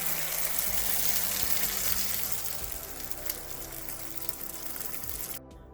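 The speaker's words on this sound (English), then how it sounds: "Add 1 cup of water." Water pours into a pan of egg chilly curry in a steady, fairly loud gush that runs for several seconds, then cuts off abruptly near the end.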